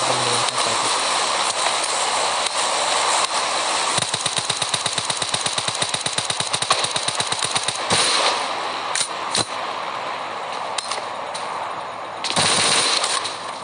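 Loud bursts of rapid automatic warning gunfire crackle in quick succession in PUBG Mobile on the Erangel map, followed by a few separate shots against a rushing, noisy background.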